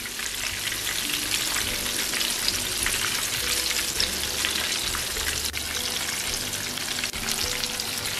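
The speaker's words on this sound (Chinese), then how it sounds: "油温500放入油锅中炸，先将封口的这一面放下去，防止它开裂。" Stuffed shiitake mushrooms deep-frying in hot oil, a loud, dense crackle and bubbling that holds steady throughout. A soft tonal background sits underneath, and no one speaks.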